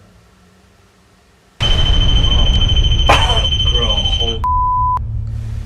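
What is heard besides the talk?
REM pod ghost-hunting device beeping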